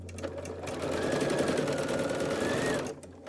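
A sewing machine runs in one continuous fast stitching burst of about two seconds while sewing a background quilt square on top, starting and stopping cleanly with quiet room sound around it.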